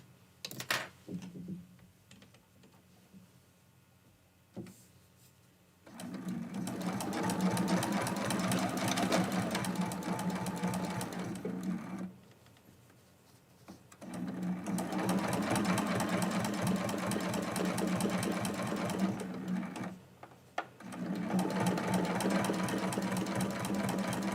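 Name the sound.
sewing machine stitching a quilt block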